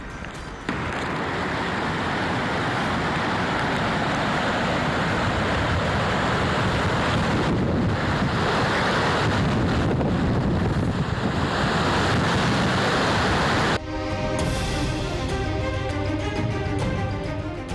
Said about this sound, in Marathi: पुलाचा भराव खचल्यानं ओढ्याचं पाणी महामार्गावरून वाहू लागलं।